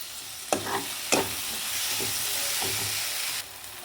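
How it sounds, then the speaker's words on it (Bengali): Chopped tomato and spices sizzling in a pan as they are sautéed, with a steady loud frying hiss, a few sharp clatters of stirring near the start, then the hiss drops at the end. "এবার ঢেকে কিছুক্ষণ আমাকে কষাতে হবে।"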